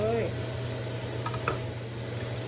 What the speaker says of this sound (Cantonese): 加返啲油，放個蛋落去。